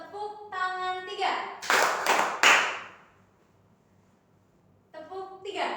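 A class of children claps their hands on command, about three sharp broadband claps in quick succession between bursts of a teacher's speech, fairly close and loud, followed by a quiet pause before talking resumes.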